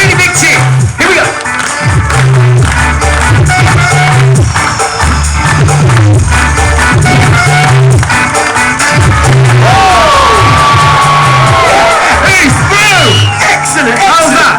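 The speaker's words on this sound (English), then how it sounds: "Now remember, if I get through, really big cheer." Large live-show audience at Butlins Minehead clapping in steady rhythmic unison, then swelling into loud cheering and whooping, with music and a voice mixed in throughout.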